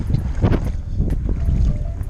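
Steady low rumbling wind buffets the microphone on a cold lake, with water sloshing faintly against a bass-fishing boat throughout.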